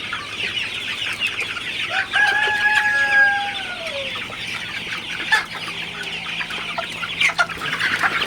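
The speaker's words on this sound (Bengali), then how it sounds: "বড় সাইজের দুটা মুরগি ধরি" Sonali super hybrid chickens in a poultry shed give a few drawn-out squawking calls and clucks as birds are caught, over a steady background hum and clatter.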